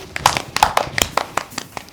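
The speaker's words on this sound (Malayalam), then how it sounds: "കൈയടിക്ക്" Several people clap their hands in an irregular, sparse pattern, a handful of sharp, close claps spread over two seconds with no talk.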